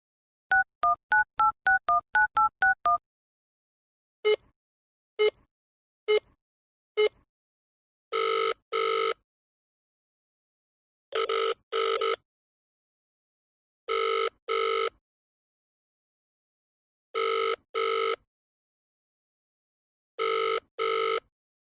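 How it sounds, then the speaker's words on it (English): A telephone number being dialled: quick touch-tone beeps in a rapid run, then a few spaced single tones, followed by a repeating pattern of paired ringing tones with gaps between them. "dial the number"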